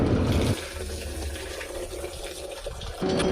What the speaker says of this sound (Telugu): చీర పెట్టి వడబోయడం వల్ల చిన్న చిన్న పార్టికల్స్ కూడా ఆగిపోతాయి